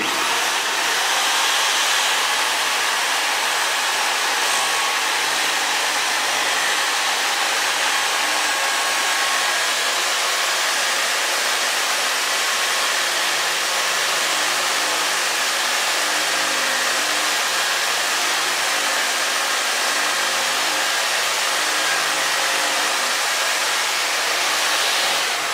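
The MS3001 wetstone chisel sharpener, honing a plane blade clamped for a 25-degree edge, runs with a steady, even whirring hiss that holds unchanged throughout.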